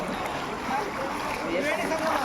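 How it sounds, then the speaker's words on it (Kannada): Water flows steadily past at a riverside picnic spot near Mysore, a continuous rushing, splashing wash with a faint voice-like murmur blended into the background. "ನೀರು ಸಖತ್ತಾಗಿ ಹರಿತಾ ಇದೆ."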